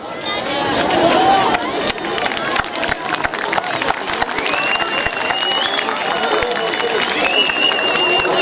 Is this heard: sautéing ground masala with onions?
no